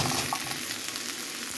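Onions frying in hot oil for a kalo zira bhurta, a loud, close, continuous sizzle with crackling spits and faint scraping of stirring.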